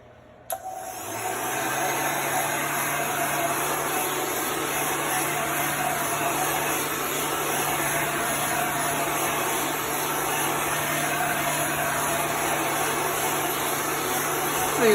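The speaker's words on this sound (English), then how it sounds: "So you want to make sure that you're moving your heat gun. You don't want to bubble up your chalk paste." A heat gun blows steadily to dry chalk paste on a craft project, giving a constant loud whooshing roar with a faint electric whine that starts abruptly and continues unbroken.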